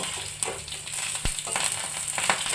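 Curry leaves, mustard seeds, chili and sugar frying in hot oil for dhokla tempering, a steady close sizzle with crackling pops and one sharp spatter burst partway through, no talk.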